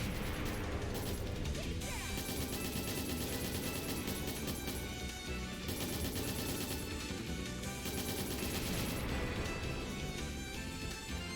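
An enemy fires big missiles during a battle in the video game Trails in the Sky the 3rd: loud, dense crashing blasts and mechanical clatter run continuously with almost no pause, packed with layered impacts.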